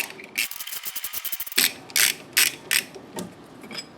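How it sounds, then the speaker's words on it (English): A ratchet removes a 17 mm bolt from the motor mount of a 2006–2011 Honda Civic: a rapid run of close metallic clicks, then several slower, separate ratcheting swings. "all you do is take your 17 mil, ratchet it out"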